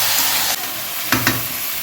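Marinated meat fries with onions in a hot pan, giving a loud, continuous sizzle close up, with a couple of sharp stirring bursts near the end.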